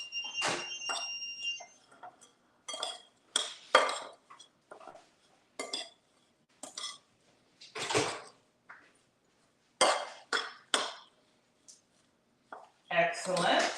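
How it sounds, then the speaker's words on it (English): A baking dish is lifted out of a home oven, with scattered clinks and clatters of pans and metal utensils in short separated bursts, the oven door and cookware sounding close by amid quiet pauses. "I'm gonna go over and take what we're already baking out of the oven"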